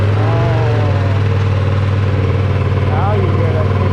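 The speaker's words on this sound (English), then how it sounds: "Nice little cold start." A 2020 Ducati Panigale V2 sport bike idles after a cold start, a loud steady low engine drone with a faint rising rev near the end.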